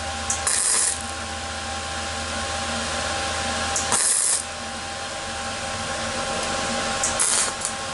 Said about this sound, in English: It's welding really nice though.